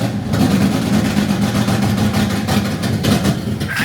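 A turbocharged VQ37HR engine in a Nissan Patrol drift build revs loud and close, its low rumble stuttering with an irregular, choppy misfire throughout.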